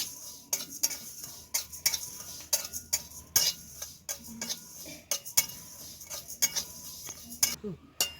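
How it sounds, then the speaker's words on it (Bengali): Asafoetida fries in a hot, dry spice mixture in a pan as a spoon stirs and scrapes, giving quiet, irregular clicks and taps over a faint sizzle, with no talking. "এই মশলার মধ্যে কিন্তু আমি হিংটা একটু ভেজে নেব"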